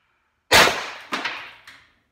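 A high-power Apocalypse air rifle rated at 130 joules double fires: a loud, sharp crack with a decaying tail, a second crack about half a second later and a fainter third snap, alone in otherwise silent surroundings.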